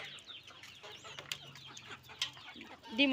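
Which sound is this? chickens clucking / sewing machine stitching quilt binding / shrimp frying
chickens clucking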